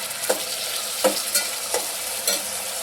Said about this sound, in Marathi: चांगला भाजून घ्यायचं, फुल गॅस करायचं, फुल.